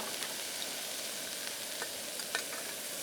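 Butter sizzles hard in a hot pan before dehydrated backcountry eggs go in. The frying hiss is steady and close, dotted with small pops and crackles, with no talking.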